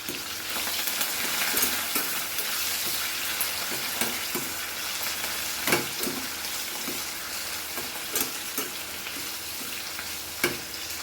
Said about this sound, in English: curry, chilies, and fry this nicely